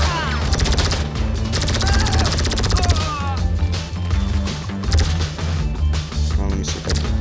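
Dense, continuous gunfire from a GTA V Online shootout during a farmhouse raid, with overlapping bursts and rapid automatic fire under constant game noise, while a voice talks over parts of it.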